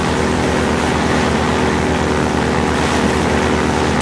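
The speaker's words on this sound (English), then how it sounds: "Another helicopter." A Combine gunship from the Half-Life 2 video game, heard as a loud, continuous droning rotor-and-engine roar that stays steady and close throughout.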